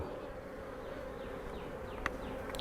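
Honey bees swarm around an open hive during a beekeeping inspection, giving a dense continuous buzz close to the microphone with a few sharper clicks near the end.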